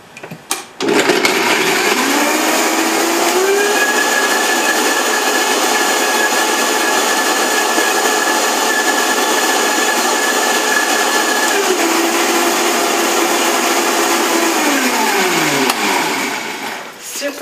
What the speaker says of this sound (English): And then we're going to blend it.